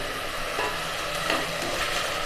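Chopped mint is tossed into a pan of frying ginger-garlic and onion and stirred, giving a soft, steady sizzle with light scraping for a couple of seconds.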